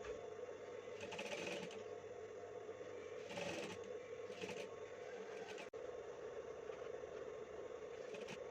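A sewing machine stitches a seam with a 1 cm allowance on a gamis dress, a steady close mechanical whir with faint rattling bursts at a few points, running alone without talk.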